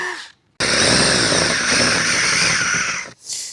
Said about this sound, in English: So that's why we have to drill these out.